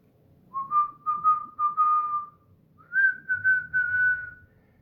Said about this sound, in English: Simple whistle. That's all he needed.